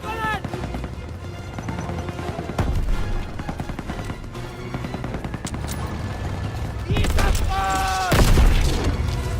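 Call of Duty WW2 gameplay is loud with continuous gunfire, machine-gun bursts and heavy booms including a grenade blast, with voices talking over the battle.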